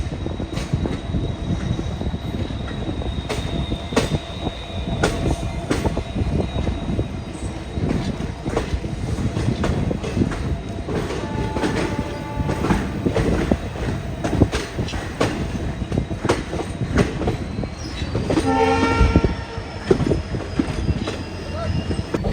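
Jammu Tavi Express rolling into Bikaner junction: a loud, steady rumble of coaches with repeated clickety-clack over rail joints and a bright burst of wheel squeal near the end.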